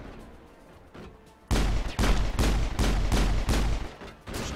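Pistol gunfire in the Mass Effect video game, a string of sharp, loud shots at a steady rhythm after a quieter opening.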